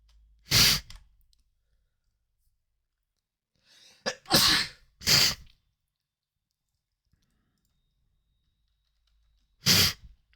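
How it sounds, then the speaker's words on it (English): A person sneezes four times, sharp and close, during an OPTCG card game session: one sneeze, a pair after a sharp inhale, then a last one after a long quiet gap. "Oh, why am I sneezing?"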